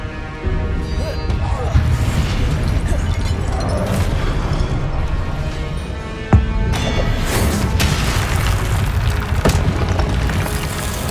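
Confringo blasting curse explosions in Hogwarts Legacy burst out as loud booms over a busy battle din, with a sharp blast standing out midway and further crashes and rumbling debris following, while a voice calls out spells.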